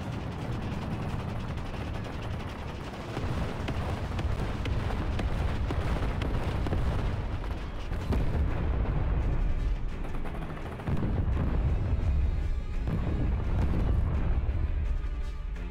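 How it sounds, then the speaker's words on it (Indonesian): Continuous gunfire and explosions in a tank battle video game, with dense overlapping cannon booms, shots and rumbling blasts filling the whole stretch, loud and steady without a break. "Tiba-tiba ada yang nembakin gua bro."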